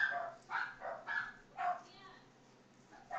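Excited pet dog Waffles lets out a string of soft, distant barks and yips in the background, several separate bursts spread irregularly over a few seconds with quiet gaps between.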